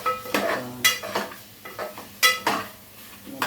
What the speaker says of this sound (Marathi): तेलामध्ये छान परतून घ्यायचा मसाला